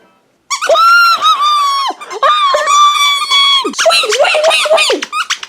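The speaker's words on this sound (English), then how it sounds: "Oh, it's coming from my squeaky toy." Squeaky toy squeezed repeatedly in long, loud, high-pitched squeals, some bending in pitch, running in close bursts with short gaps between them.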